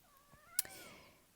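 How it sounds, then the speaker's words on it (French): A house cat lets out a single rising-falling meow demanding attention, close and clear with a sharp click in the middle, in a quiet room. "ça c'est le chat qui réclame"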